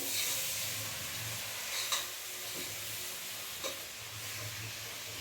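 Potatoes sizzle in hot oil in a pan, a soft continuous frying hiss with a couple of brief stirring clatters, fairly quiet and without talk.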